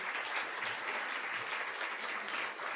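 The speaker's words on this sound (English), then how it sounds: "Can we applaud that?" An audience at an early childhood education forum applauds, a full, even wash of clapping that fills the short moment without letting up.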